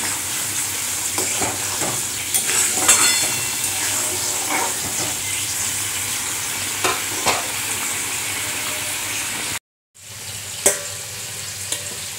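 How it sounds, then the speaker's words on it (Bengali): A small eggplant fries in a pan, giving a loud, steady sizzle with scattered crackles and stirring clatter, briefly cut off near the end before the frying noise resumes. "আর তার সাথে একটা বেগুন ছোট্ট আছে, সেটা ভাজবো।"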